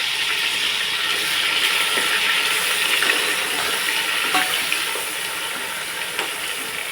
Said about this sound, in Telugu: ఉల్లిపాయ పేస్ట్ వేసి బాగా మనం దీన్ని వేపుకోవాలండి